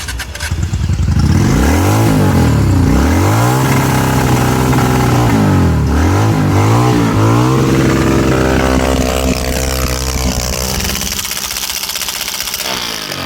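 A motorcycle engine runs loud and close, revving up and down repeatedly before settling into a steady idle.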